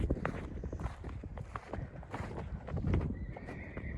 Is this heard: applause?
no